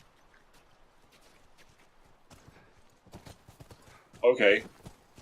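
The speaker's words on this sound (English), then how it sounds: "You just summon horses." Horse hooves clip-clop in The Last of Us video game as a soft, quiet run of irregular steps. A voice speaks over them, and a brief louder burst comes near the end.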